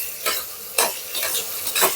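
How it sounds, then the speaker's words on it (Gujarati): A spoon scrapes and stirs food in a pan with ghee, three or four distinct stirring strokes over a continuous gentle sizzle, close and clear. "આને આપણે હલાવી નાખીએ સારી રીતના"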